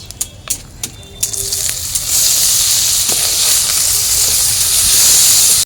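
Chopped onions hit hot oil already sizzling with whole cumin seeds while a Bengali kuche fish curry is cooked. A few sharp clicks are followed by a loud, steady, close sizzle that swells and holds to the end.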